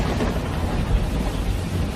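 Heavy torrential rain roars in a steady, dense wash with low thunder rumbling beneath, loud and continuous throughout.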